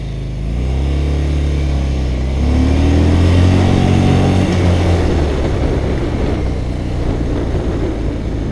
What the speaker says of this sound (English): I don't think there'll be any problems getting this bike up to speed.